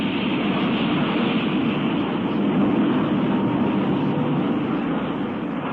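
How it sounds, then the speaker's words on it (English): Fearsome din of a rolling mill in a modern copper and brass sheeting manufactory, a dense, steady roar of heavy machinery with rumbling and clattering, loud and continuous without talk. "That's the fearsome din made in the rolling mill of a modern manufactory of copper and brass sheeting."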